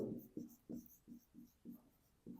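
A pen scratches across paper in short, evenly spaced strokes while a table is written out, about eight quick bursts, close and quiet, no talk.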